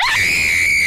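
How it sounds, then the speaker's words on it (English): A blood-curdling scream, very loud and close, leaps upward into a shrill sustained shriek that holds for just under a second. "The blood-curdling scream!"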